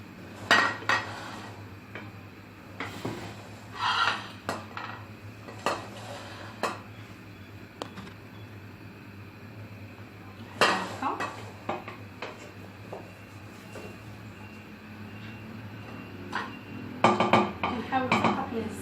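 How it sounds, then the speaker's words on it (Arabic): Cooked chicken being lifted out of a pot of broth for Moroccan chicken seffa, with utensils scraping and clinking against the pot in scattered bursts over a steady low kitchen hum. "غندوز نحيد الدجاج من بعد ما طاب"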